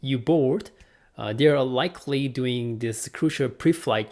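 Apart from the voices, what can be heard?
No everyday noise stands out behind the speech.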